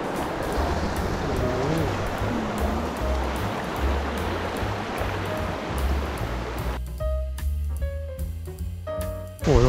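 A waterfall inside a cave with stalactites and stalagmites roars as a dense, continuous rush of water. Near the end it thins out, and a low hum and a few tonal sounds come through.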